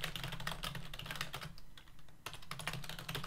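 Quiet, rapid clicking of computer keys comes in bursts with a brief pause midway, as someone types code in GameMaker; the keystrokes sound close and soft with no voice over them.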